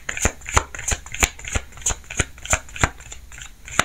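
Tarot cards are shuffled in a steady rhythm, about a dozen crisp riffling snaps spaced evenly and heard close up, with no talking over them.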